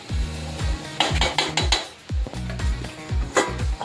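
Lapsi cooking with ghee in a pot in a home kitchen, with a run of sharp metallic clanks and scrapes as a utensil strikes the pot and a lid is set on, loud and close, no talk.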